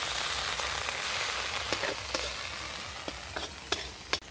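A ground ginger and cumin paste fries in a wok, an even loud sizzle running throughout with occasional sharp clicks and scrapes of a spatula against the metal.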